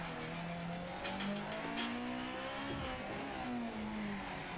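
A race car engine in the Project Motor Racing video game revs and shifts pitch as it pulls torque into a hairpin, rising and falling tones with a few brief bursts, steady and fairly quiet.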